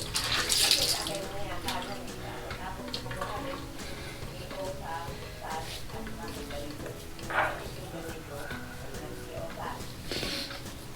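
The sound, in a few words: rinsing face with cold tap water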